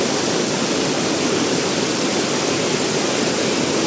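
Waterfall at Arjunkada in Kharghar, a steady, dense rush of falling water heard close and loud, unbroken for the whole stretch with no voices.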